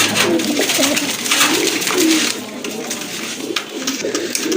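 A pair of grizzle pigeons coo repeatedly in low, throaty rolls, close and fairly loud against a busy bird-market background of other birds and faint voices.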